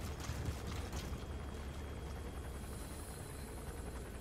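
A helicopter's rotor thrums steadily nearby in Metal Gear Solid 5, a constant loud chopping drone that holds throughout.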